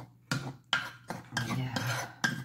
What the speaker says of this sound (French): Je mélange donc ma petite marinade